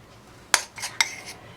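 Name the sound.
teaspoon clinking while drizzling chocolate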